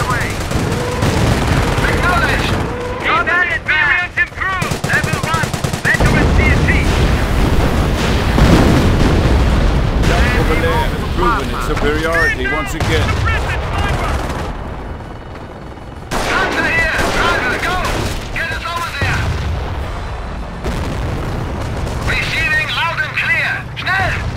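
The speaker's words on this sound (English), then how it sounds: "Rockets barraging target" In Company of Heroes, a Romania mod, rockets barrage a target amid machine-gun fire and explosions, a loud, continuous battle din with unit voice lines speaking over it.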